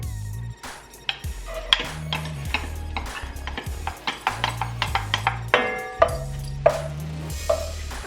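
Onion going into a pan for shrimp creole and being stirred, a spoon knocking and scraping the pan in quick irregular strokes over faint sizzling, close and clear with no talking.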